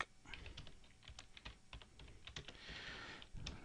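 Rapid keystrokes on a computer keyboard as a book title is typed into a reference, an uneven run of close, crisp clicks with brief pauses and no voice.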